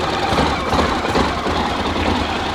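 A Honda Forza 750 motor scooter engine idles steadily nearby, a continuous rough putter with a slight low throb and no other sounds.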